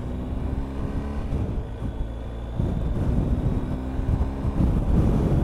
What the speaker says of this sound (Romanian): Mamă, dar ce vânt e. Nici nu mai aud motorul de la zgomot.